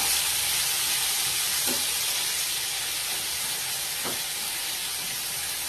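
Eggplant pieces frying in oil in a wok give a continuous, fairly soft sizzle and hiss, with two faint knocks partway through.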